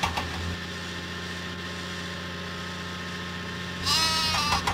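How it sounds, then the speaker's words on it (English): Sheep bleating in a Thomas & Friends video game: a short, close bleat near the end over a steady bed of game music. "Help Cranky find the sheep."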